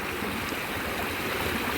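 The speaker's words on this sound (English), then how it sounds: "the creek's all running" Floodwater from storms and flash flooding runs down a swollen creek near a culvert, a continuous close rushing wash that stays loud and even throughout, with nobody talking.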